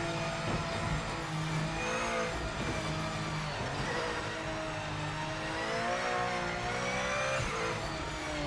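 Race car engine in the Project Motor Racing video game, a continuous loud burbling growl with shifting pitch as it revs and gurgles, steady throughout with no talk.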